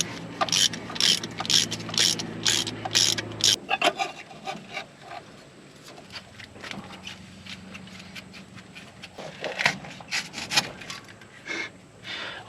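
Impact wrench spinning bolts off a 1954 Plymouth Savoy, several short rapid rattling bursts close by in the first seconds, then quieter clanks and handling noises of tools and parts.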